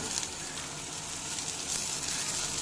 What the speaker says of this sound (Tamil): இப்போ இது கூடவே எடுத்து வச்சுருக்கிற பச்சை மிளகாயும் தக்காளியும் ஆட் பண்ணி நல்லா கிளறி விட்டுக்கலாம்